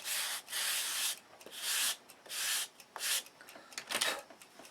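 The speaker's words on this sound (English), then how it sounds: "I'll give a few minutes over finishing sanding this" Hand sanding on wooden aircraft ribs: rough, hissing strokes in steady bursts of about a second, with short pauses between them, close up and alone.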